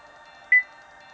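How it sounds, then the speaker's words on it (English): Single short electronic beep from a C7 Corvette dashboard confirming an oil life reset, clear and brief against a quiet steady background hum. "once you hear that beep, your oil light's reset"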